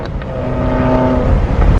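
Stage 3 Subaru WRX with a Tomei catless exhaust revs loudly up close, a rising, droning engine note with a brief drop at the end.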